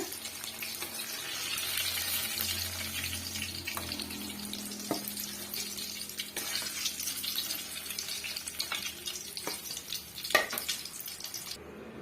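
Fried brinjal for a wedding-style gravy being lifted out of a kadai and drained of oil, a steady soft sizzle with a few light metal clinks near the end, no talk.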